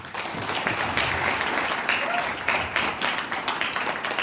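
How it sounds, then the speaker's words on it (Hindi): An audience claps together in sustained applause, a loud, dense wash of many hands at close range that swells in short bursts and continues for several seconds. "फिर तालियों में कंजूसी क्यों?"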